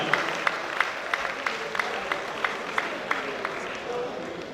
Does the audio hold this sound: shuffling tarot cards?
no